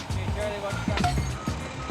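A railroad material truck backs up with repeated reversing beeps, steady tones pulsing over a low engine rumble and nearby talk.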